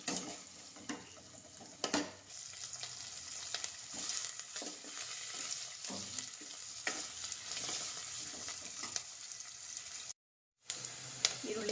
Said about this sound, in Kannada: ನಾನಿಲ್ಲಿ ಈರುಳ್ಳಿ, ಹಸಿಮೆಣಸಿನ್ಕಾಯಿನ ಹಾಕ್ತಾಯಿದ್ದೀನಿ. ಕರಿಬೇವಿನ ಕೂಡ ಇದ್ರ ಜೊತೆಗೆ ನಾನು ಹಾಕ್ತಾಯಿದ್ದೀನಿ. ಇದು ಸ್ವಲ್ಪ ಚೆನ್ನಾಗಿ ಫ್ರೈ ಆಗಲಿ.